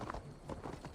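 Horse hooves clatter at a gallop in the video game Assassin's Creed Valhalla, quiet rhythmic thuds repeating quickly in a short burst.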